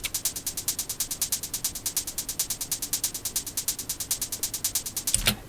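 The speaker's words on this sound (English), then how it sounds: "the result is a lot more movement in the hi-hats" Trance hi-hats with varied velocity and panning tick in a fast, steady stream of crisp hits. They are fairly quiet and play alone, each hit a little different in strength, with a brief heavier hit near the end.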